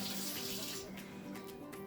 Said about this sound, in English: We'll rinse out our measuring device real quick.